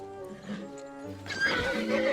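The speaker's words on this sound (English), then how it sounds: "Oh no, not the horse!" A horse whinnies loudly in Kingdom Come Deliverance 2, a drawn-out neigh that rises into a harsher, noisier cry near the end, heard close with some game sound beneath it.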